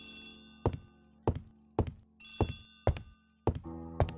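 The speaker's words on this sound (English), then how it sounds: "Poirot, the telephone." An old-fashioned telephone bell rings in a period drama setting, six sharp metallic bursts spaced evenly about half a second apart, each ringing out and decaying, with a faint tonal hum underneath.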